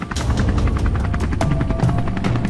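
A remote-control toy helicopter takes off in a rapid, loud rotor chatter with sharp repeated beats, close and continuous.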